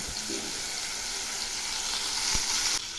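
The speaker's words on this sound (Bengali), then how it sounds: "এবার আমি দিচ্ছি দুটো মাঝারি সাইজের পেঁয়াজ বাটা, আর সেই সঙ্গে দিচ্ছি একটা টমেটো পেস্ট।" Onion paste and tomato paste frying in hot oil in a pan for a boal fish curry, a steady broadband sizzle that holds through, with a brief stir near the end.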